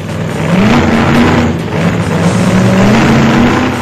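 Engines revving along Delhi streets at night as thousands of bikers ride out, a steady loud roar with rising and falling pitch throughout, close by and with no voices.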